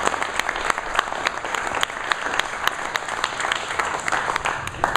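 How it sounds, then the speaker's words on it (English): A veteran business event audience breaks into sustained applause, dense steady clapping from a room full of people with no voices on top. "Big round of applause to Mr. J.W."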